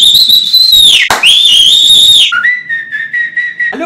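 Someone whistles loudly with shrill sustained pitches, a rising and gliding call, a short break, then a lower steady held note, with no talk over it.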